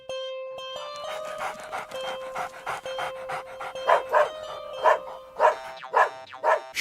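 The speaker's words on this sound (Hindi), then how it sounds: "क्यों भौंक रहे हो?" A cartoon dog on a farm pants rhythmically and lets out short bark-like yelps, loud and close, the bursts coming faster toward the end, with no talking.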